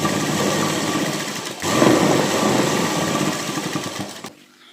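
A sewing machine runs steadily while stitching a half-inch fold on kurti fabric, a close, continuous whirring that shifts slightly midway and then cuts off near the end.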